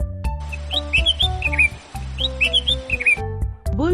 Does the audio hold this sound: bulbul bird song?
yes